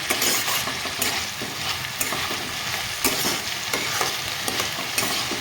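Green beans stir-fried in a pan for street-style egg chowmein, with steady loud sizzling and repeated scraping stirs of a utensil throughout, no voices.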